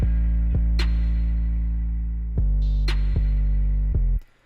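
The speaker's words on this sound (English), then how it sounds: "the last thing I added was just like a little snare roll before the drop" An electronic beat builds with a short snare roll before the drop, with sharp snare cracks over a heavy sustained bass tone, loud and close, ending in a quick burst of hits before cutting out.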